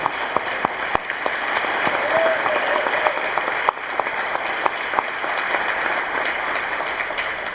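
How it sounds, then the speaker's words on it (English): Sustained applause from an audience at a 2018 awards ceremony, dense and steady for the full length with scattered sharper claps standing out near the front and a brief dip partway through, no talk over it. "Let's give them a second round of applause."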